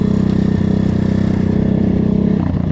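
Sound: small motorcycle engine running after carburettor change

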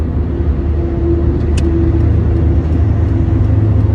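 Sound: car driving through sudden lane change, Monroe shock absorbers

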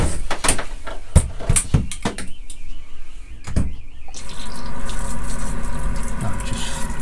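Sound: water running out of motorhome taps

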